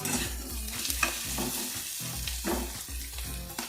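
Onions and capsicum frying in a wok with ginger paste and garlic, a continuous close sizzle broken by rhythmic stirring and spatula scrapes, no talk.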